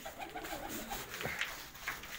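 Pigeons coo softly in a breeding loft, a few low, rounded coos repeating at an unhurried pace, fairly faint, with no talking.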